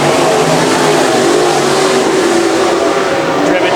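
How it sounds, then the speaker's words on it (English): Pro Modified race cars roar down the back straight of a racing circuit, a loud, dense, sustained engine drone with overlapping revving and no pauses. "the 46 car of Brad Wright, coming down the back straight"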